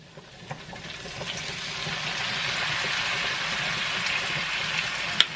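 Jarred tomato sauce being poured into a pan for lasagna, a steady wet glugging and splashing that builds and holds close by, with a sharp clink near the end.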